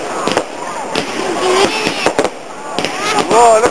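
Bonfire Night fireworks burst repeatedly at a distance in a London street, sharp cracks and booms mixed with whistling trails, while nearby people exclaim excitedly throughout.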